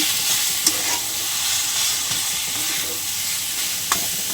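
Boiled potato with garam masala is stirred in a hot pan, a constant loud sizzling hiss with soft scraping underneath and two brief sharp clinks of the spoon against the pan.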